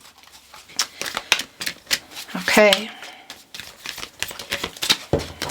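Tarot cards are shuffled by hand in quick, crisp riffling bursts of papery clicks and flutters, with a short spoken word from a nearby voice partway through.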